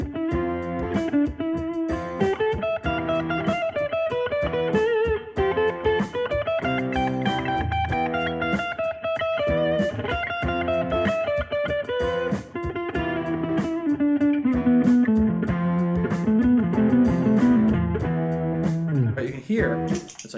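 Guitar through an effects unit playing a minor pentatonic line with an added Phrygian flat second, a continuous run of single notes at steady loudness, close and with no talk.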